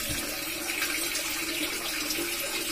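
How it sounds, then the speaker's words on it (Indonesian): A garden water fountain splashing among onion and chili plants beside a fish pond: steady, close, even rushing and splashing water with no pauses and no talking. "Air mancur yang ada di tanaman bawang dan"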